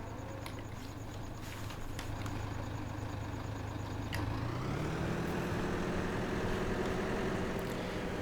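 A Massey Ferguson tractor engine in Farming Simulator 2017 runs steadily with a low idling drone, then shifts and rises in pitch midway as the revs change, heard alone and fairly quiet.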